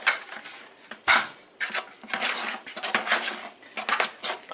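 Mapei Keracolor U white unsanded grout being mixed by hand in a plastic bucket, giving repeated scraping, knocking and clattering strokes in uneven bursts, close and fairly loud, with no voices.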